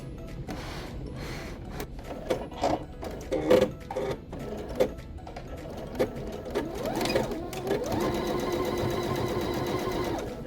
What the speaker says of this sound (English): you're going to sew all the way down the strip